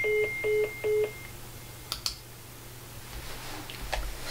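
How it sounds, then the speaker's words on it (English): Three short, evenly spaced telephone keypad tones at the start, then faint clicks and quiet line noise while a call to a real estate listing is placed. "So now let's dial the number"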